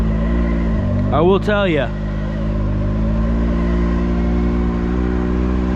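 A Can-Am Maverick X3 RS side-by-side engine drones steadily on a dirt turn track, with a loud voice briefly over it.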